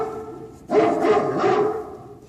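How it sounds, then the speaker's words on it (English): A dog's bark with a slight whine in it, played from a sound-effects vinyl record, two or three close barks in quick succession over a faint record-surface hiss. "you hear that little whine in the dog's bark?"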